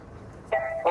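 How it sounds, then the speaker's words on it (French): A car horn toots twice in quick succession, short and fairly close, over a low idling engine at a medical checkpoint. "Je dois faire entrer un patient en voiture."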